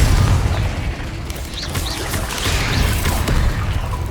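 Confringo fire-blast spell in the video game Hogwarts Legacy, a loud, dense rumbling boom texture with crackling bursts layered over it, continuous and close throughout.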